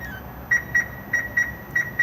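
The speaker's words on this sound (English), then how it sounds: "you will get a series of chirps and flashes indicating that something isn't quite right" An alarm on an Elddis Majestic 185 caravan chirps in paired high beeps, three evenly spaced pairs in quick succession, sharp and close over faint background hum, warning that a passenger door is ajar.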